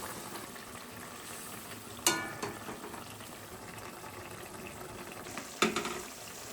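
Fish curry broth bubbling in a pan, making a soft, steady simmering hiss, quiet and close, broken by two sharp clinks.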